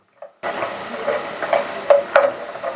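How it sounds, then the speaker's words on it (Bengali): Hot fried lentil dumplings (bori), fried briefly in light oil, dropped into water give a soft steady hiss with a few brief sizzling crackles, close and moderately loud, after a quiet start. "তো আপনারা দেখতে পাচ্ছেন বড়িটাকে ভেজে জলে দিয়ে দিলাম গরম অবস্থা।"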